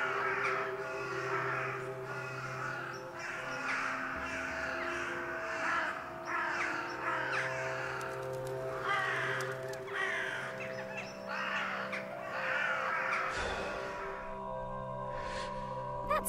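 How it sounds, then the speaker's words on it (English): Blackbirds cawing in the video game Margrave 4, a dense, continuous chorus of harsh calls from many birds over a droning background, steady throughout with no talk. "Those blackbirds are stubborn critters."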